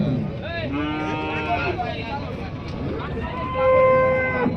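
Cattle at the Chakan cattle market moo repeatedly, long drawn-out calls from cows mixed with a nearby bovine bellow, over a busy market murmur with faint voices in the background.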